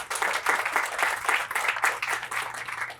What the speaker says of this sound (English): How about a round of applause for Joe Allen?